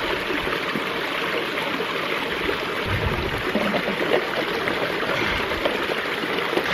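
Steady, close rush of a mountain stream flowing over rocks, broad and continuous with no voices, as water bottles are filled during a hiking and camping trip.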